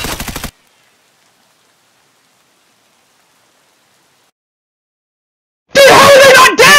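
Rapid video game gunfire from a magazine being emptied: a short, loud burst of automatic shots, then a long silence before a voice shouts loudly near the end.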